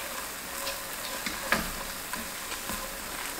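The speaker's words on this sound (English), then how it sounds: "You're frying the sauce, you know? Just fry it a little bit" Black bean sauce for vegan jjajangmyeon frying in a pan, a steady soft sizzle with faint scraping stirs and a few light clicks, close by and fairly quiet.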